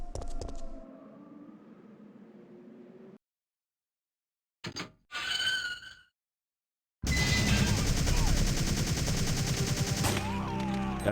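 Gunshots in Resident Evil 3: Nemesis on hard mode, a few short sharp bursts separated by silence, then a loud, dense stretch of game noise as a critical head shot lands; no one speaks.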